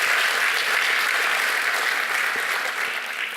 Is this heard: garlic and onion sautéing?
no